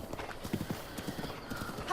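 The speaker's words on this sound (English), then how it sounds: "He's not very happy, my horse." Horse hooves clip-clopping at a quick gallop in Zelda: Breath of the Wild, with a neigh near the end and someone talking over the hoofbeats.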